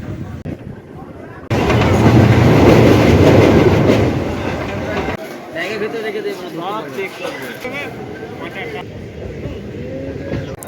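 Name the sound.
passenger train departing from Goghat station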